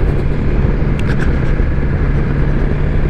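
Motorcycle engine on a road ride through Manchester as the rider rolls off the throttle, a steady loud low drone with wind rush and no clear revving, close and continuous throughout.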